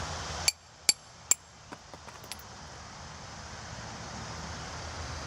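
Metal strikes seat a lug stud into a 2005 Pontiac Vibe wheel hub: three sharp, close clinks followed by a few lighter taps, then a steady low background hum.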